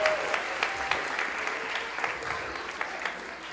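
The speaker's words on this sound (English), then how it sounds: "Please join me in giving them all a round of applause." Audience applause for volunteers at a Muslim city festival awards ceremony, steady dense clapping from a hall crowd lasting several seconds with no voices over it.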